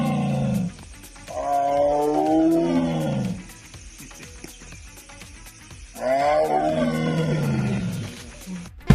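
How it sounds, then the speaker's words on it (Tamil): A tiger roars beside a bridge at the edge of a forest, two long, loud, deep roars separated by a pause, close and unaccompanied by voices. "பாலத்தின் மேல் இருந்து கீழே கம்பீரமாக இறங்கிய புலி பின்னர் வனப்பகுதிக்குள் சென்றது"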